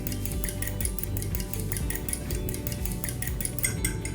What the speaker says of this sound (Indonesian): Ini kita aduk ya.